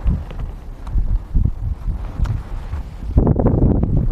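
Wind buffets a microphone outdoors during a fishing trip with bottom and float rods, making a continuous low rumbling roar that swells louder toward the end.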